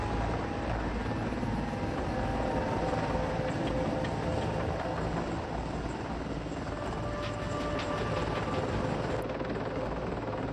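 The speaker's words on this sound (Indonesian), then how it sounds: "Mil-Mi-28 yang dikenal dengan nama Kodnato Havoc adalah helikopter serang anti-armor tandem dua kursi" A Mil Mi-28 Havoc tandem two-seat anti-armor attack helicopter drones steadily with dense rotor and turbine roar, loud and continuous throughout with no voices.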